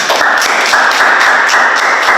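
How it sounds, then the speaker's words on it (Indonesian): An audience applauds at an Indonesian talk show. Dense, loud, continuous clapping fills the whole stretch with no voices over it. "ini dia Bang Asfal, teman-teman tepuk tangan."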